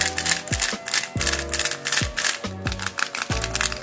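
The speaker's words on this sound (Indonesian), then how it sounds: "di sini kalian udah bisa dengar kalau rubiknya bakal beda banget. Suaranya juga beda" A lubricated, freshly set up 3x3 Rubik's speedcube is turned quickly, giving a dense run of clacking, rattling turns with no talking.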